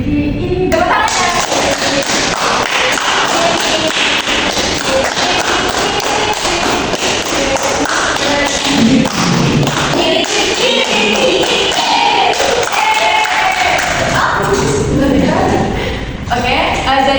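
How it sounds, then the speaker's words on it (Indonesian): A class group at a school counselling session claps and taps along, a steady, loud rhythmic patter over constant talking throughout. "Tepuk tangannya."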